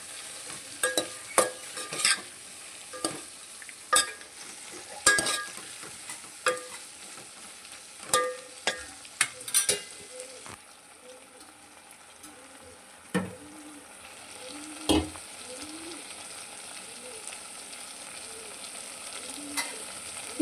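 Cumin powder is stirred into okra curry frying in a pan: a quiet, steady sizzle runs underneath a series of sharp spoon clicks and taps against the vessel, with a few short pauses.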